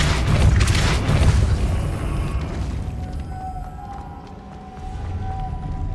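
Depulso spell cast in Hogwarts Legacy: a loud, rumbling booming blast at the start fades over a couple of seconds into a quieter ringing tone, with no voices.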